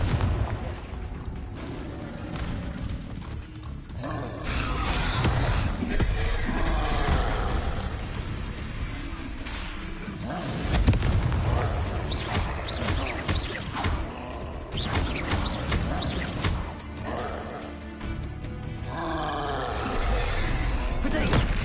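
Repeated Confringo blasting-spell explosions in the Hogwarts Legacy video game, heavy booms and crashing bursts recurring through loud, busy combat noise.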